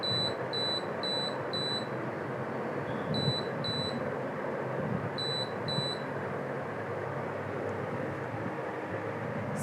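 A buzzer on an Arduino Uno vibration detector gives short high beeps in brief bursts of three or four, then pauses, over a steady loud background hum.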